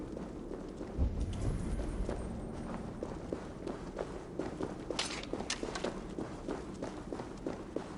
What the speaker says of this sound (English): That sound. Is it thunder? Footsteps.